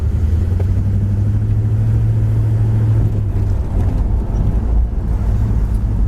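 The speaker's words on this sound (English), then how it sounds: "As far as the car running and driving, really handles the road awesome." A 1966 Chevrolet Chevelle Malibu convertible running and driving on the road, its steady low engine and road rumble continuous and fairly loud throughout, with no talking.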